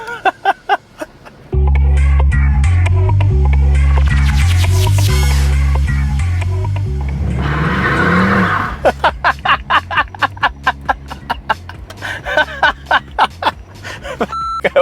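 Mercedes C63 AMG V8 launching from a standing start with tire smoke: a loud, sustained engine roar that rises through the gears for several seconds, then gives way to short sharp bursts and a voice.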